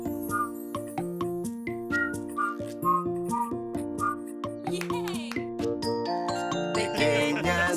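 A bright whistled melody plays over a bouncy, synthesized children's song backing in Latin American Spanish, steady and upbeat, turning more busy and layered near the end.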